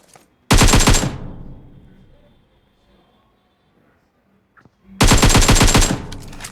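Two loud, rapid bursts of AKM automatic rifle fire in the BGMI battle royale game, each about half a second to a second long and separated by several seconds of near silence.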